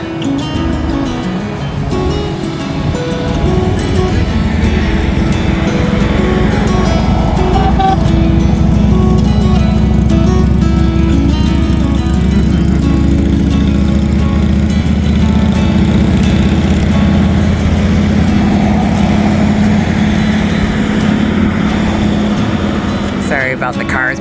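Several trucks in an Interior Alaska trucking memorial ride rumble past together, a steady, loud, low engine roar that holds for the whole stretch with no let-up, close by.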